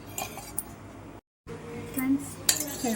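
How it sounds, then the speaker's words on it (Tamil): Eggs beaten in a bowl for a chocolate cake, heard as quick, close clinks of a utensil against the bowl, with a brief silent break and faint voices in the background. "முட்டை எடுத்துருக்கோமா இதை நல்லா நம்ம வந்து பீட் பண்ணி எடுத்து வச்சுக்கலாம்"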